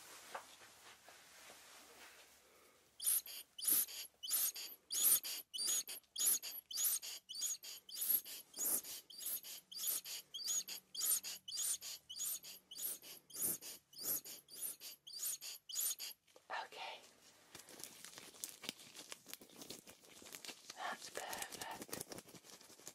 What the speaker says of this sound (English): I'm just going to give your ears a little puff of air just to remove any excess that might be around the external ear